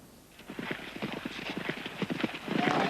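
Horse hooves clip-clop in an uneven run of close, distinct strikes on hard ground as a cowboy gets down from his horse, with steady background noise beneath.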